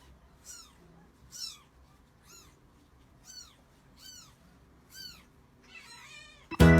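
A hungry cat meows repeatedly for food, about eight clear rising-falling calls spaced roughly a second apart, close and alone in a quiet room, ending in a sudden loud clatter.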